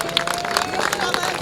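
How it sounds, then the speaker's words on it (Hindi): An audience at a mushaira breaks into applause, a dense, continuous patter of many hands clapping, loud and close, over a murmur of crowd noise. "पुरजोर तालियों से इस्तकबाल करें।"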